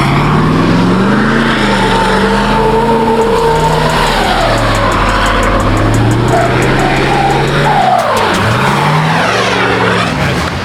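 A Hummer H1 doing donuts on a street, loud engine revving up and down in sweeping pitch swings with tire scrub and noise, close and continuous with no talking.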